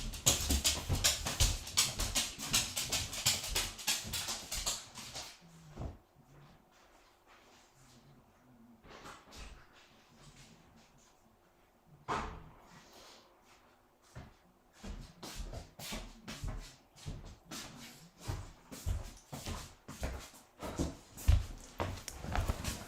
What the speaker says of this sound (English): let me let my dogs out.